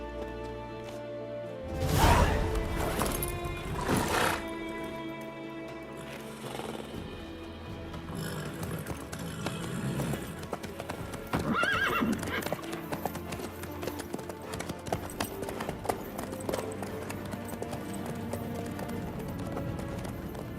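A horse in The Witcher 3 clip-clops along at a steady trot with a brief neigh, hooves up close under game music and occasional speech.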